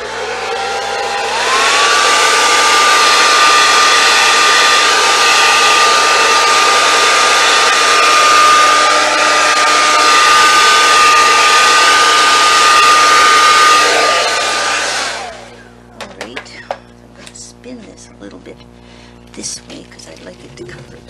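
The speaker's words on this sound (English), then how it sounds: "Then I'm going to blow it up with the dryer." A hair dryer blows loudly and steadily for about fifteen seconds with a high whine, then cuts off, leaving quieter handling noises.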